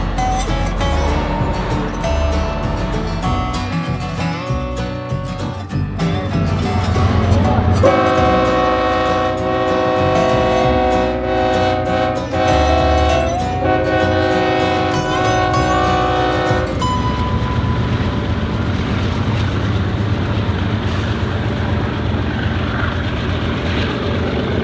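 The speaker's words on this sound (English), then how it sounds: "Look at that train go." A train passing on tracks near Route 66 by the Petrified Forest, a loud continuous rumble with long sustained horn tones layered through the middle, steady and close, no talking.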